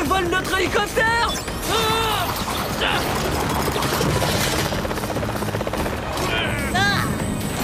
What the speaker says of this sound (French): Elle vole notre hélicoptère.